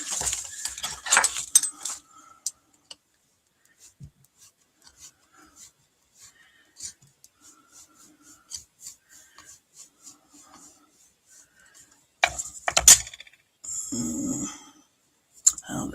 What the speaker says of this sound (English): rub it with the back of a spoon